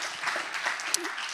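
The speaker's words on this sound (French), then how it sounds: "ça s'applaudit aussi" Brief burst of audience applause at an inventors' award ceremony, a steady wash of clapping lasting just over a second.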